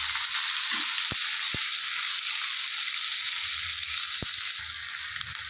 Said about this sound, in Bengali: দেখুন মোটামুটি সবগুলোই ভাজা হয়ে এসছে প্রায়